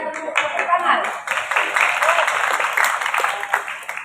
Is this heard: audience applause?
yes